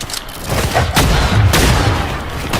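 Rapid gunfire from a first-person video game shooter, loud and close, with sharp shots cracking in quick bursts over a steady din of in-game battle noise.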